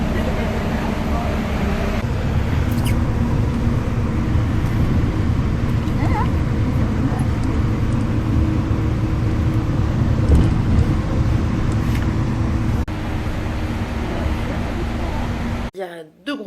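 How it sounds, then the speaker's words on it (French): A bus rolls back toward Lucerne, Switzerland, with a steady, close engine and road rumble running throughout, occasional rattles, and muffled voices under it before an abrupt cut at the end. "On rentre en bus à Lucerne."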